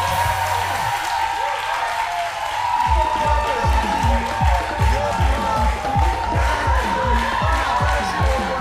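Audience applause and cheering for a singer at a French live TV show, starting after a brief lull and building into dense, sustained clapping with crowd noise.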